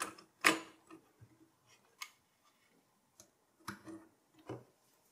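Clicks and snaps of a CPU being seated in the socket of an HP Pro 3400 MT motherboard and the metal socket lever closing, a handful of sharp close ticks spread apart with quiet gaps between.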